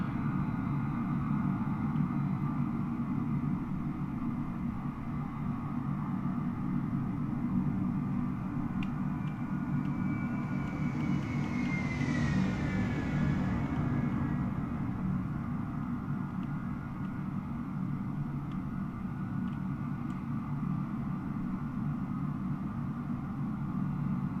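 A Tasman airliner, an AI aircraft in Microsoft Flight Simulator 2020, lands at Sydney. A steady broadband jet rumble and roar holds for the full stretch, and a faint whining tone rises and falls in the middle. No one speaks.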